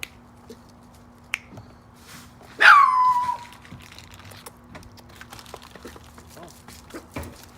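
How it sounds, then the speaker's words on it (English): A dog gives one short, loud yelping whine that slides downward in pitch and lasts under a second, standing out against a quiet indoor background with faint clicks and occasional murmured voices. "My dog Fury."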